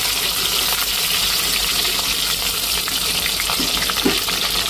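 Mustard seeds and onion frying in hot oil, a steady close sizzle with crackling pops, and a few faint stirring scrapes near the end; no one talks.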